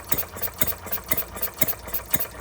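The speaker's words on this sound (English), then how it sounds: "It even sounds like a stationary engine." Close, rhythmic chug of a Stirling Kits Retrol G16 stationary gas engine idling on its own, each firing stroke evenly spaced.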